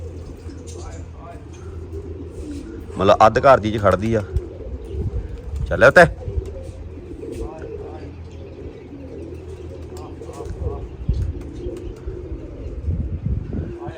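Pigeons coo and chirp around a rooftop loft, with a few louder bursts of wing flapping, while someone talks over them throughout.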